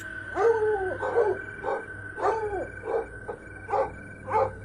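A dog barks repeatedly in a fairly regular rhythm, some barks drawn out into whiny yelps, heard from a moderate distance over a quiet hum.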